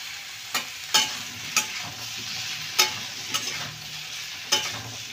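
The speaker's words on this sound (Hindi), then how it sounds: "आलू पटल दोनों को मैं साथ ही में भून लूँगी" Diced potato and pointed gourd (parwal) stir-fry in a little oil in a pan, giving a steady sizzle with a clatter of the spatula about every second. It is close and clear, with no talking.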